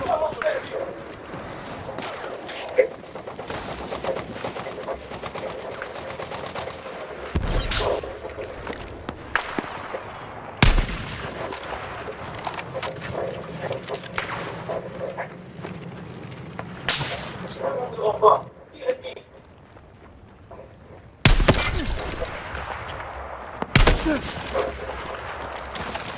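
Video game gunfire cracks out in sharp, loud shots and short bursts, scattered irregularly across the scene, with voices now and then.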